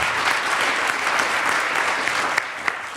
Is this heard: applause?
yes